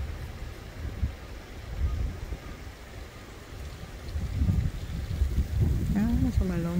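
Strong wind gusts buffet the microphone beside a large, partly frozen river near Hwang Sun-won's Sonagi Village, a steady low rumble with a voice briefly speaking near the end.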